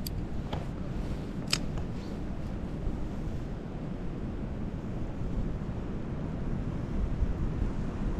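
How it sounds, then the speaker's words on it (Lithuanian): Steady wind blows across the water at a fishing spot, a constant hissing rush with a few faint sharp ticks early on and no voices. "Girdit koks vėjas"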